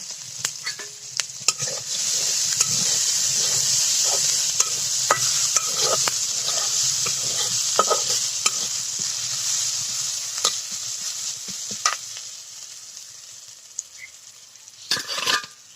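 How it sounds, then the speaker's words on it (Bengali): Onions fry in a pan with a bright, constant sizzle, while a utensil scrapes and stirs them in repeated clattering strokes, close up and loud, with no talking. "আমরা পেঁয়াজগুলো একটু ভেজে নেব।"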